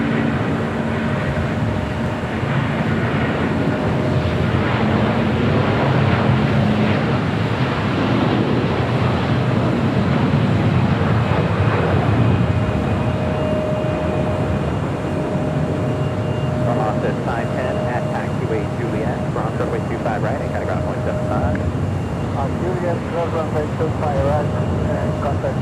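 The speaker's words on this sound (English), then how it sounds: "KLM, the Dreamliner, heading back to Amsterdam, heading up to 24 left." A KLM Boeing 787 Dreamliner departs LAX bound for Amsterdam, its jet roar a steady, broad rumble mixed with wind buffeting over the whole stretch, under occasional distant radio chatter.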